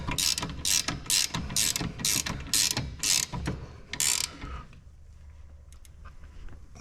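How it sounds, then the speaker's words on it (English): Speed ratchet tightening bolts on a Brembo big brake kit being fitted to a Z31 300ZX, heard as a run of close, loud rapid clicking bursts in quick succession before the work falls quiet. "I love speed ratchets. They make life a little easier when you're in tight little spaces like this."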